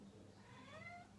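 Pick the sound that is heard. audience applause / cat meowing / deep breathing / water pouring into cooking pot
cat meowing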